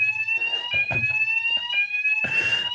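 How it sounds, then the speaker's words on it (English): An indoor fire alarm sounds during a scheduled test, a loud steady high-pitched electronic tone that continues throughout, with brief background noises and no speech. "So we'll do a fire alarm test apparently."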